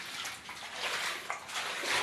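Water flowing steadily outdoors at night, a continuous close rush and splash with no talk.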